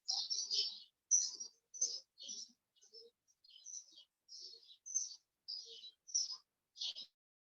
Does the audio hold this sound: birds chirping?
yes